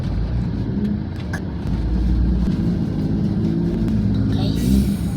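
A Yamaha Aerox motor scooter engine revs loudly nearby, a rough droning roar that swells toward the end while people chatter over it at a Christmas party.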